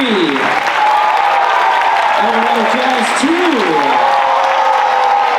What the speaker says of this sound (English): How about another round of applause for Eldorado Jazz 3